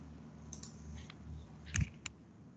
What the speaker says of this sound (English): I'm still hearing some keyboards.